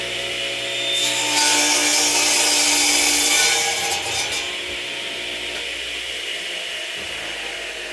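A handsaw works through a 16.5 inch piece of 1 by 12 wood, making a steady, close rasping hiss that swells in the middle strokes and then settles into a lower scraping drone.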